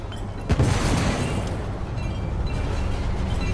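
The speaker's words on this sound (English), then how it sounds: "The damage from the explosion is getting worse." A sharp blast from an explosion in the video game The Order: 1886, with a loud burst near the start that gives way to a sustained low rumble and roar filling the rest of the clip.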